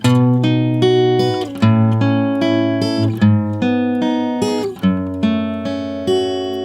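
Guitar plucking a slow sequence of ringing chords, each strummed then left to sustain and decay before the next, close and clear.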